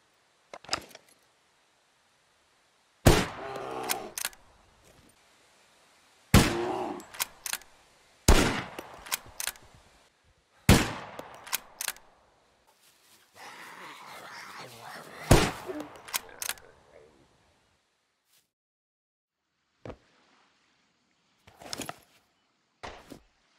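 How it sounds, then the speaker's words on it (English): Sharp gunshots crack out in scattered single bursts and short volleys, loud and close, separated by silent gaps, with a stretch of rumbling noise midway. "Keep hearing shots."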